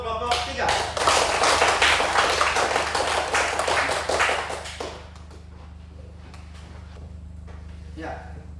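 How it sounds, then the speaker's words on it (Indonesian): A classroom group claps for group 3, a dense burst of applause for about five seconds that stops abruptly, leaving a quiet room with faint murmurs. "Tepuk tangan untuk kelompok 3."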